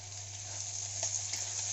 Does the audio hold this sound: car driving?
no